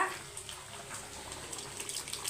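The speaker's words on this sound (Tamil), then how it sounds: "நான் இந்த சொம்பில் சுடு தண்ணி ஒரு சொம்பு சேர்த்துக்க போகிறேன்" Hot water gushes from a vessel into a cooking pot during festival cooking, a steady, close splashing pour with bright, bubbly spatter and no talking.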